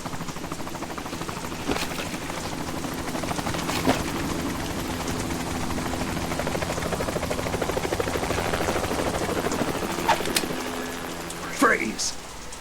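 A helicopter in the video game Metal Gear Solid 2 thrums steadily throughout with its rotor drone, while game voices speak over it and a few sharp clicks and bursts break in near the end.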